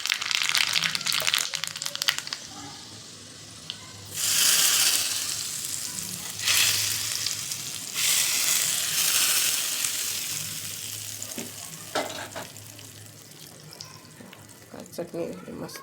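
A spice tempering for mango chutney bursts into loud sizzling in hot oil, crackling in several surges between quieter stretches, with a voice speaking underneath at times.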